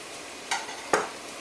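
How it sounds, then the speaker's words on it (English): Two quick, close stirring scrapes sweep through stewed pork braising in liquid in a pot coming to the boil, each stroke short and sharp against quiet bubbling. "Just going to give that a quick stir"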